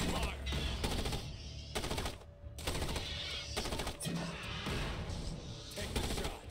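Gunfire in the Starship Troopers video game, with repeated rapid bursts of automatic shots, loud and close, separated by brief pauses, with faint talk underneath.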